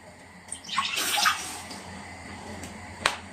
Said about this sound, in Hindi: उसमें डाल देंगे हम दूध